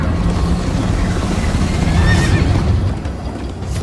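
A horse in Minecraft Story Mode whinnies loudly near the middle, its cry rising and wavering, over a steady bed of hoofbeats and rumbling movement.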